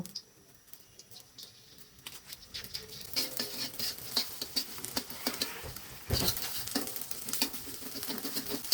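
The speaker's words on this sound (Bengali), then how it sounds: "ফেটানো ডিমটা ঝুড়ি ঝুড়ি করে ভেজে নিব" Beaten egg with onion and chili fries in soybean oil in a wok, broken into crumbly scrambled pieces. A steady close crackling sizzle runs throughout with scraping stirs, quieter at first and growing busier and louder after a few seconds.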